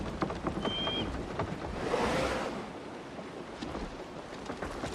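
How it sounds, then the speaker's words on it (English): Steady rain pours in an Assassin's Creed game scene, a dense, even hiss of falling water with a wind-like roar swelling briefly in the middle, no voices. "Just listen to that rain."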